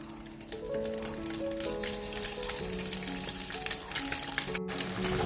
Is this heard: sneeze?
no